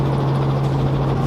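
A helicopter in flight gives a steady, loud drone with a constant low hum and a faint rotor pulse throughout.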